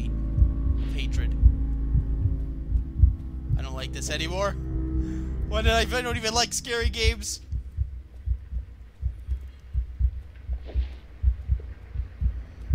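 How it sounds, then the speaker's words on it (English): Deep, steady heartbeat thumps pulse through the creepy setting of the Among The Sleep alpha demo, a low repeating throb running the whole time beneath a frightened player talking over it. "Let's head towards the heartbeat of hatred."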